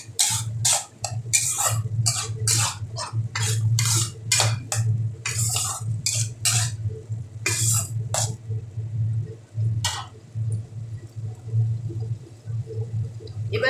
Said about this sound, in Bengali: এবার আবারও ভালো করে ভেজে নিচ্ছি।